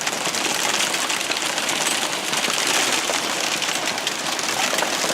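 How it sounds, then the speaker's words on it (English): Hail pelting down outdoors during a motorcycle trip in Ohio, a dense, steady hiss of countless small impacts that stays loud and unbroken throughout, with no voices. "Hail."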